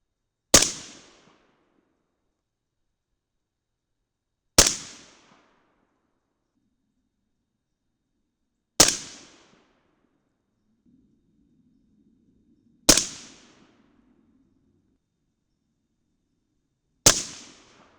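Five sharp rifle shots from .223 Remington handloads with Hornady 73gr ELD bullets ring out at an outdoor range, evenly spaced about four seconds apart, each a loud crack with a brief decaying echo and near silence between.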